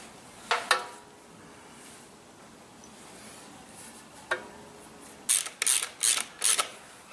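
A ratchet tightens nuts onto bolts while a Twose scraper is repaired: a few sharp, isolated clicks early on, then four quick bursts of close, loud ratcheting near the end, with no talk.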